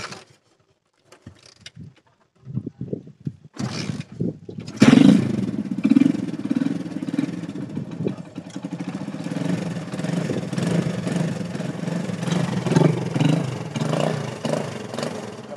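A motorcycle with a newly repaired accelerator cable starts up after some faint clatter, then idles and revs steadily and close for the rest of the clip, with no one talking.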